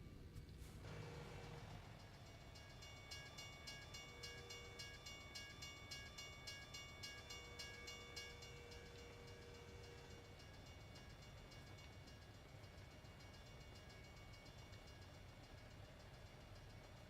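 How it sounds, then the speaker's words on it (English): Two trains passing at a distance, heard as a steady low rumble with faint rhythmic clatter and a sustained tonal whine, quiet throughout after a brief louder knock at the start. "There must have been 2 trains going by."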